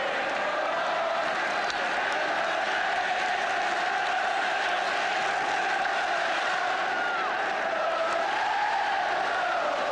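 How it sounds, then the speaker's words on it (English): A large football stadium crowd at a Chelsea match roars in a continuous swelling rumble of cheering and shouting, sustained and evenly loud throughout. "At last the game and the crowd comes alive."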